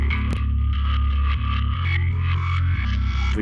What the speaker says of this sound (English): That reverse delay is pretty cool.